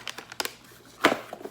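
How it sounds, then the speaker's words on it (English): A throwaway plastic bag from a Play! by Sephora subscription box crinkles and rustles in several quick bursts, close and fairly loud, with a sharper crunch near the end and no talking. "So this one's just a plastic bag you throw away."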